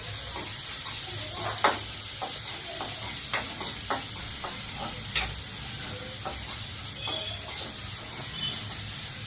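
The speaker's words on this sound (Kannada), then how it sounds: "ಚೆನ್ನಾಗಿ ಕೈ ಬಿಡದೆ ನಾವು ಬಾಡಿಸ್ತಾನೆ ಇರಬೇಕು." Onions sizzle steadily in hot oil in a pan while being stirred for a North Karnataka-style stuffed brinjal curry, with a constant frying hiss and soft intermittent scrapes and taps of the spoon, close by.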